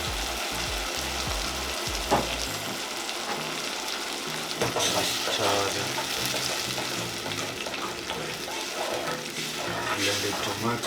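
Blended tomatoes hit a hot pan with oily browned ingredients, a steady loud sizzle with stirring clatter and scraping throughout, no voices over it.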